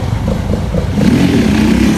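A Honda Bros motorcycle ridden for a wheelie accelerates, its engine swelling to a louder, rising drone partway through. The engine is close and loud with no voices over it.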